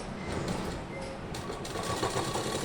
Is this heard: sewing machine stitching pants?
yes